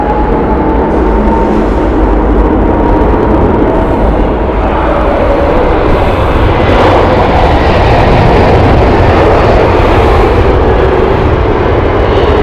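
A United airliner at Heathrow Airport produces a loud, continuous jet-engine roar that stays steady and close throughout, with no voices.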